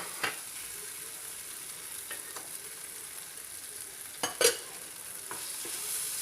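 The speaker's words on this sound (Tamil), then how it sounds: "இப்போ இந்த இஞ்சி பூண்டு விழுதை போட்டுக்கலாம்." Ginger-garlic paste frying in a pan for Andhra-style Guntur chicken, with a soft steady sizzle and a few scraping stirs of a spatula at irregular moments. The pan sound is close but quiet, and nobody speaks.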